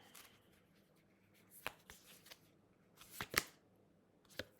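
Tarot cards are laid over one another in a quiet setting, making a few faint, sharp card slaps and soft shuffling rustles with no talk.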